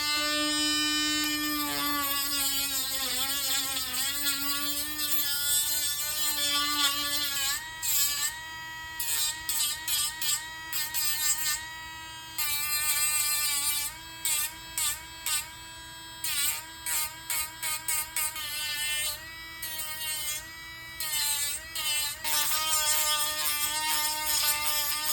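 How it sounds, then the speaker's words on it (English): A Dremel rotary tool running at its highest setting grinds a plastic action figure, a steady high-pitched whine broken by repeated short on-off bursts as the bit touches and leaves the workpiece, close and alone. "I'm turning my Dremel up to its highest setting"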